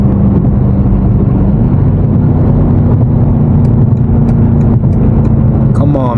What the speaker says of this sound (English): this car actually sounds insane